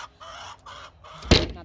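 Chickens at a backyard coop in Utah give a few short, close clucks and squawks in uneven bursts, ending in one louder sharp squawk.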